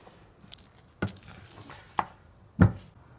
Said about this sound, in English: I'm just going to stir them through and make a beautiful paste to put in